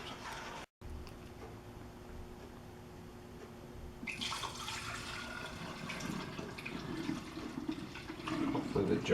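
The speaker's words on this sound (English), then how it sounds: "we'll funnel it into the jars" Yogurt milk mix pours through a funnel into jars, a steady liquid splashing and gurgling that grows louder and fuller in the second half, with faint handling noise.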